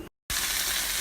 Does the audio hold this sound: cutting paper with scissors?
no